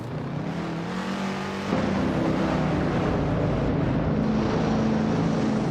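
Race cars in a racing video game run side by side at a steady engine drone, a sustained tonal hum that thickens and grows louder partway through as more cars bunch together, with no talk over it.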